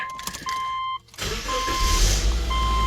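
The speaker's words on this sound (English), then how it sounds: "I personally like to turn the car on to do it." A 2006 Subaru Outback engine cranks and catches after a brief electronic chime, then settles into a steady, close idle rumble with no talk.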